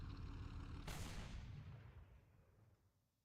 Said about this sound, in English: What was that noise? I heard an explosion.